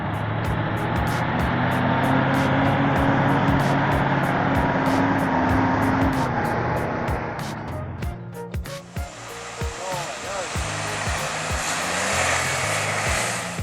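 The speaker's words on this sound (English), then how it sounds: "engine's roar echoes through the forest, torque at its peak, the front shaking like it's about to fall apart" A tractor stuck in forest mud roars loud and steady for several seconds, then the engine note shifts and drops while sharp knocks and clatters punctuate it, with no voices.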